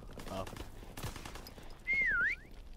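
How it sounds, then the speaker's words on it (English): A whistle taunt in Call of Duty WWII Prop Hunt, a short rising-and-falling whistled phrase near the end, following bursts of distant gunfire. "Heard me whistle and he's like,"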